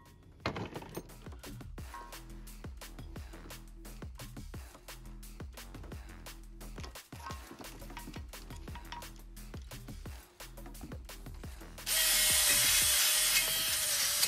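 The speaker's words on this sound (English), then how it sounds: "Time for more wire brushing." Wire brush scrubbing the rear axle of a Ford Fiesta Mk6 in a rapid series of rasping strokes, close and moderately loud, ending in a louder continuous hiss.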